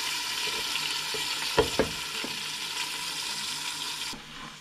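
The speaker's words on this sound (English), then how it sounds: "just let it cook in the frying pan for a while until golden brown" Steady oil sizzling and crackling from fish frying in a pan, with a couple of sharp clinks partway through, close and continuous.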